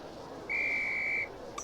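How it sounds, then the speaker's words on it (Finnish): A single referee's whistle signals the start in the Harry Potter and the Philosopher's Stone PS1 game, one steady shrill blast of under a second, clear and alone, followed by a brief electronic chime. "Vihellän lähdön merkiksi."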